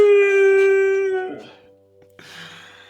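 Puppies howl in a drawn-out, wavering cry that fades, followed by a short burst of rustling and yipping noise, close and fairly loud.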